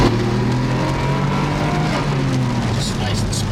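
A Nissan Skyline R33 GTR with the stock recirculating blow-off valve system accelerates, its engine note climbing loud and close from inside the car, with a brief hiss near the end and someone talking over it.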